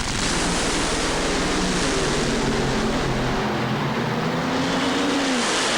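Top fuel drag racing cars at the 1990 NHRA Keystone Nationals roar down the track, a loud, dense wall of engine noise that holds steady and then drops away as they pass, no speech.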